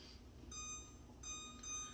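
Oven control panel beeping as it is set to 400 degrees for roasting a turkey: a steady electronic tone sounds, pauses, then returns as two more beeps over a quiet kitchen hum.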